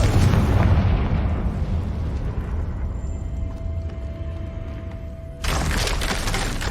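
The Confringo spell explodes in Hogwarts Legacy with a loud, rumbling blast that decays over several seconds, followed by a renewed crashing burst of debris near the end.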